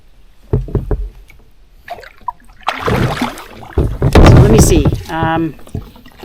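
Paddles working a canoe on a lake in spring at Bonnechere Provincial Park: a few knocks on the hull early, then strokes and splashing water up close, with people talking in between.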